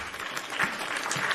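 Audience applause at a live wrestling talk show, a steady wash of clapping from a crowd that holds level and fairly loud for the whole stretch, with no one speaking over it.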